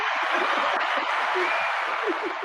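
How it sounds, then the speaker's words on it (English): Steady, dense audience applause welcoming a guest onto a talk show, a continuous wash of clapping with a few low voices and cheers poking through the crowd noise. "Everybody give a round of applause for Miss Nikki Stubbs"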